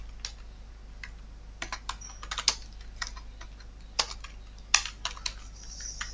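Someone types a search on a laptop keyboard: quiet, irregular key taps, some single and some in quick clusters, close over a low steady hum.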